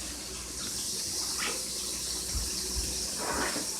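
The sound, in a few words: draining water off cabbage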